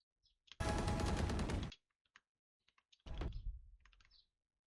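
Shooter video game gunfire: a sustained automatic burst about a second long, then a second shorter volley with trailing echo, separated by faint clicks, no speech.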